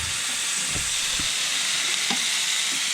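Steaks or chops sizzle steadily in a frying pan, a loud continuous hiss and crackle with faint pops, heard close up and alone.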